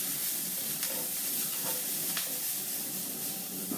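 Smoked salmon fillets topped with pepper sizzle and crackle in a hot pan over a fierce gas flame, a steady close frying hiss with a few faint stirring clinks.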